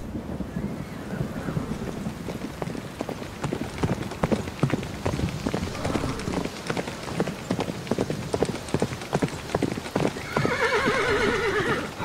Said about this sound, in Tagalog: Para bang yabag yun ng mga napakaraming kabayo